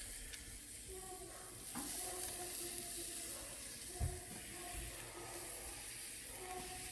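Pear and peach halves laid cut side down on a hot grill give off a steady, soft sizzle and hiss, with a few faint clicks and bumps of handling alongside.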